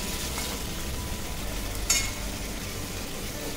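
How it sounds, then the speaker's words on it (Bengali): Paneer frying in ghee, a steady broadband sizzle running throughout, with one brief sharper stir or scrape near the middle and no voices. "সমস্ত পনির আমি ছেড়ে দিলাম ঘিয়ের মধ্যে, দিয়ে বারে এটাকে একটু নেড়ে দেব, একটু অল্প লাল করে ফ্রাই করে নেব।"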